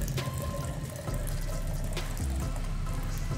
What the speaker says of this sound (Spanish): le vamos a agregar el agua hirviendo, el agua calientita